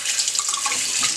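Water running from a kitchen tap to wash a bowl, a steady, close splashing stream filling the sink for just over a second with no voices.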